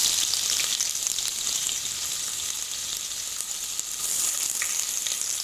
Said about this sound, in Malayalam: ഇതിലേക്ക് നമുക്ക് സവാള ഇട്ടു.